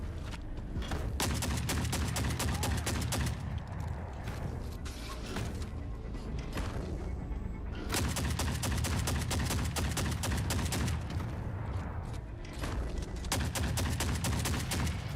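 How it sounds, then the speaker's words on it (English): A relentless, loud barrage of shotgun blasts and crashing impacts hammers against an armored mech in The Forever Winter, with booming hits layered almost without pause for the whole stretch. "Shotgun versus armored mech."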